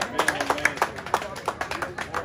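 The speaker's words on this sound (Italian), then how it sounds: "Un applauso, infine," Scattered hand clapping from a small crowd at a celebration for Cremonese's Serie A promotion, around a dozen distinct claps in an uneven rhythm, with a voice speaking over them.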